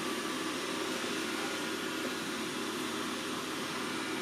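A Dreame L20 Ultra robot vacuum cleaner runs indoors in its ultimate Clean Genius mode, a steady, even broadband whir of motor and suction that holds at a constant level throughout.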